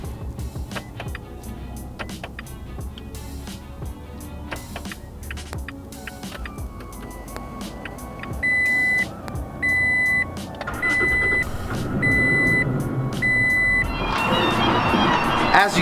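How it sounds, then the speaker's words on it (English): A Toyota Tacoma is started by remote starter: clicks and repeated electronic chimes sound over background noise, then the engine catches and runs with a rising whoosh at the end. "So I'm gonna go ahead and do 3 clicks on the remote start."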